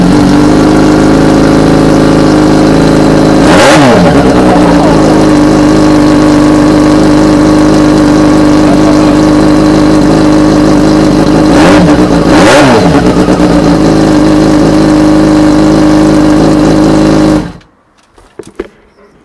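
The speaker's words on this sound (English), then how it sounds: "what we're going to do is we're going to start the bike" A Yamaha FZ6 Fazer S2 motorcycle with no exhaust fitted starts and revs loudly, its raw unmuffled engine note swelling in two sharp throttle blips over a steady idle before cutting off abruptly near the end.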